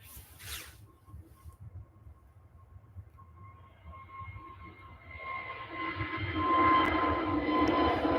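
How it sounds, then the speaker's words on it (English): A passenger jet at Manchester Airport roars down the runway on its takeoff run, a low rumble swelling steadily louder and broader from a distance until it becomes a loud, sustained engine roar. "it is hurtling down the runway now"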